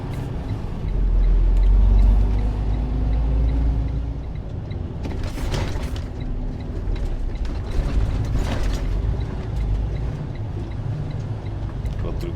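Truck carrying a container on its own chassis rumbles and rattles over hard speed bumps at the APM automated terminal in the Port of Long Beach, with a loud low engine drone and clunking bursts of rattle as it crosses.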